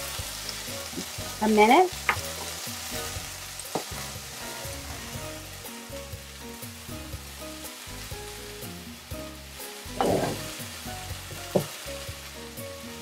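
Teriyaki chicken stir-frying in a pan, a steady close sizzle with occasional louder scrapes and stirring clatter, and a brief spoken remark over the frying.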